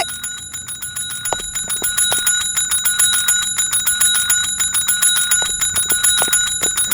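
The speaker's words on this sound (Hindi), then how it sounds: "थाने का घंटी है वो, मंदिर का घंटा नहीं है" A bright metallic police station bell rung rapidly and nonstop for several seconds, its strikes close and loud in a steady, insistent rhythm.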